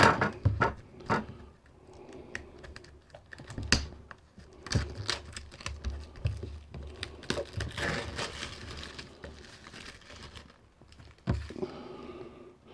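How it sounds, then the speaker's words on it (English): Cellophane wrap being split and peeled off a Samsung Galaxy S9 Plus Titanium Grey 256GB box, close up: irregular crinkling and sharp plastic ticks and tears, steady throughout with no talk. "I'll start by just splitting this cellophane"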